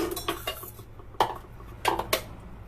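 A spoon clinks and scrapes against a bowl while food is mixed, in a few short separate bursts with quiet gaps between.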